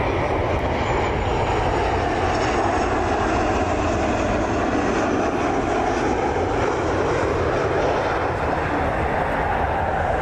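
United Airlines jet airliner taking off at Cleveland Hopkins airport, a broad, steady roar of jet engines that stays loud and continuous throughout, heard from nearby outdoors with no talking.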